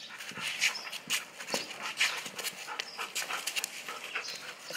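A dog being trained, panting in quick uneven bursts with small whimpers and scuffling sounds, close and fairly loud, with no talking.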